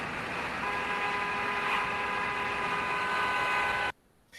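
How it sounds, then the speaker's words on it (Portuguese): A car drives past in a Doppler effect demonstration, its engine and tire noise holding loud and steady before cutting off abruptly near the end. "Quando o carro passar pela pessoa."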